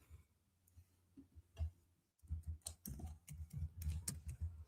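Fast computer keyboard typing while Hebrew text with vowel points is entered, a quiet pause giving way to dense bursts of close, crisp key clicks with no talk.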